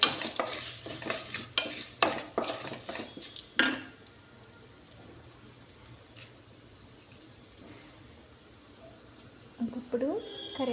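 Ten large dried red chillies fry in oil for a chicken pickle, with busy clattering stirring and sizzle up front, then a long quiet stretch of low frying before the scraping resumes at the end.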